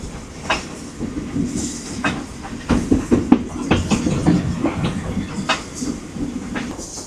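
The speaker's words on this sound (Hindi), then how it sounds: "तो यहीं पे अभी आगे जाके ये ट्रेन अपने ट्रेन स्टेशन पे स्टॉप करेगी।" A heritage train rolls on its rails into Castlemaine station, with loud clickety-clack wheel beats, rumbling carriages and a brief hiss, close by and with no talk.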